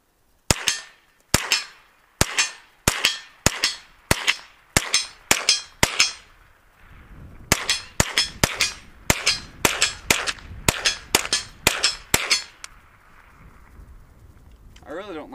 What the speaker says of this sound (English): Alright, let's shoot the plate.